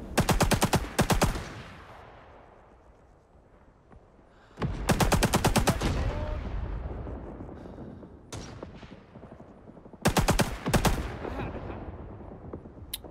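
Loud, close bursts of RP-46 machine gun fire in Rising Storm 2 on the Saigon map, with several rapid strings separated by pauses where echoing reverb and ambient battle noise fade out.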